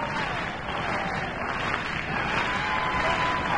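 Spectators at an Ibero-American athletics championship in a stadium clap steadily for a triple jumper's attempt, a continuous broad wash of distant crowd applause with faint voices underneath.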